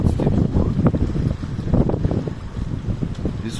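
Strong wind at sea on the Atlantic buffets a sailing boat in loud, gusting rumbles of wind noise across the microphone, with water rushing underneath and no voices.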